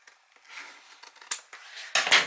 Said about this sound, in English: when you hit the corner of the chipboard, you're just gonna cut in an angle